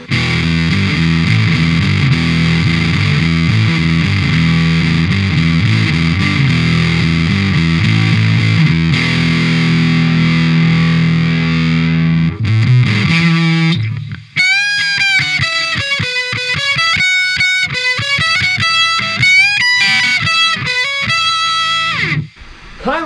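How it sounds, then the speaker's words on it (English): Electric guitar played through an EQ pedal set with mids and shape knob maxed into an Orange Micro Dark amp, giving a loud, compressed fuzz: thick sustained chords that break into a run of choppy, articulated single notes, with no talking. "Very compressed fuzz, because, like I said, this is all the mids"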